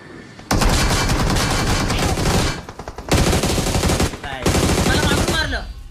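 Loud automatic gunfire in the video game BGMI comes in three long, dense bursts separated by short pauses, with a voice faintly underneath.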